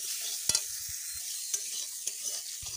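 Peas and potatoes fry on medium heat, giving a steady soft sizzle with a few sharp stirring clicks and scrapes in the pan, close and moderately quiet, with no voices.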